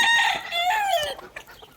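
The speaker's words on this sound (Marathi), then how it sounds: "कोंबडा बघा किती जबरदस्त आहे" A country rooster at a farm selling native backyard poultry crows loudly and close, one full rising-and-falling call with bright harmonics lasting over a second, then trailing off into faint background noise.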